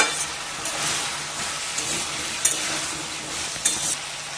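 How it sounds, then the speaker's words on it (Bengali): Spice paste for a taro curry made without onion or garlic fries and gets stirred in a pan, giving a steady soft sizzle with scraping strokes and a couple of brief clinks. "মশলাটাকে একটু কষিয়ে নিই।"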